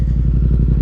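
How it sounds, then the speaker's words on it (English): A Yamaha MT-07 cross-plane twin-cylinder motorcycle engine idles close by, a steady, grunty, throbbing rumble with an even loping pulse and no voices. "this twin cylinder engine right here, this cross plane twin, is sick, bro. It sounds sick."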